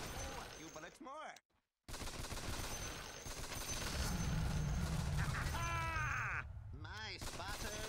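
Gunfire in the Dota 2 arcade game Heros Defensionis, dense rapid shots and bursts rattling continuously under a busy game mix with voices and effects, broken by a brief silent gap.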